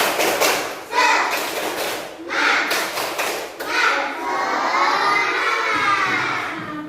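A class of schoolchildren performs a rhythmic spirit clap, with bursts of clapping and shouted chanting in a steady pattern, followed by lively crowd-like children's voices filling the room.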